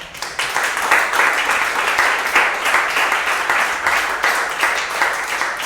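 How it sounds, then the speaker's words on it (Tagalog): A church congregation claps together during a sermon, the rhythmic clapping fairly loud and close, swelling in pulses with a few louder bursts over a continuous patter. "Pwede bang palakpakan natin ang Panginoon?"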